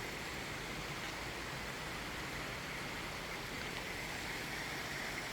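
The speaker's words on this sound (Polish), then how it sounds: "Dobrze słyszeliśmy, a właściwie ja słyszałam, jest strumyk" A small mountain stream near Karpacz flows with a steady, broadband rushing and babbling, faint and continuous with no voices.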